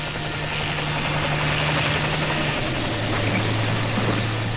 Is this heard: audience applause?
no